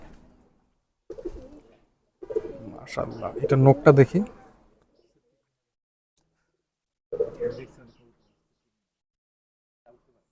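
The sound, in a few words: pigeons cooing in a loft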